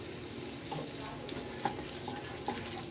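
A spoon stirs pineapple kesari bath in ghee in a pan, giving a soft continuous sizzle with a few light scraping taps against the pan, close and fairly quiet, without speech.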